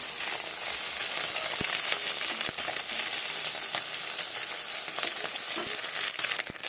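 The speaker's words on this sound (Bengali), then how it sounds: "মাছগুলো ভাজা হয়ে গেছে" Small fish fry in a pan of hot oil, a steady dense sizzle running throughout with a few sharp crackles and pops.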